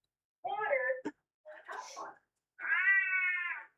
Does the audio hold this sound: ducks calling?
no